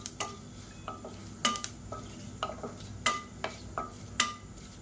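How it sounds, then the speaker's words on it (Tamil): Whole spices (cinnamon, cloves, cardamom and fennel seeds) stirred in hot oil in a pan: a spoon scrapes and clinks against the metal at irregular intervals over a faint, low sizzle, with no talking. "எல்லாத்தையும் நல்லா வறுத்துக்கலாம்."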